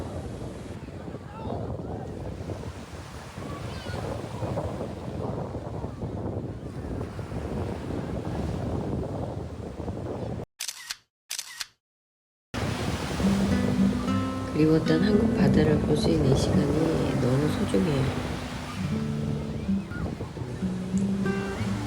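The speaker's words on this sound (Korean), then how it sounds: "근데 가까이 가니까 파도가 너무 센 거 있죠?" Rough ocean waves at Gangneung and wind roar steadily, broken by a brief silence, before a voice speaks over the surf.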